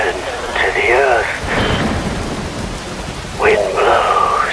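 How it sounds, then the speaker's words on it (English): Rain and rolling thunder from the Metal Gear Rising: Revengeance video game, a steady loud downpour hiss with deep rumbles, while a voice speaks over it in two stretches. "Wind blows, rain falls."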